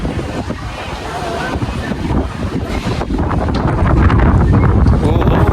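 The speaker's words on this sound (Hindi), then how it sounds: "क्या जबरदस्त हवा चल रही है" Strong, loud wind roars and buffets the microphone without letup in open village fields with dust blowing, growing heavier toward the end, with a deep rumbling gust texture throughout.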